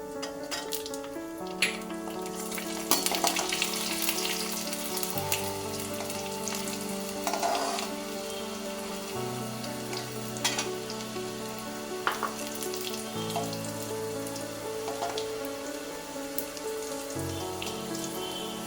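Four garlic cloves frying in a pan for a South Indian banana-flower curry, a steady sizzle running throughout with occasional stirring clinks, under a layer of tonal background music.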